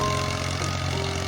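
A tractor engine running steadily while plowing a field, a continuous low rumbling drone with a steady hum and no change in pace over the short span, fairly close and heard alone with no talk.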